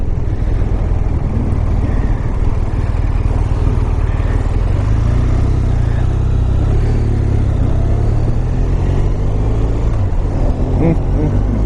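A BMW R1200RS motorcycle engine on a snowy-season test ride drones with a low, steady rumble up close, mixed with wind noise, continuous throughout with a voice talking over it.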